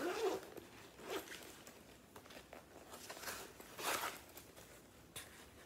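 Zipper on a compartment of a travel bag being pulled open, a few quick soft rasping strokes at close range, faint and alone.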